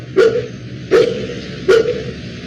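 A dog barks three times in an even rhythm, each sharp woof close and loud with a short gap between, over a low background hum.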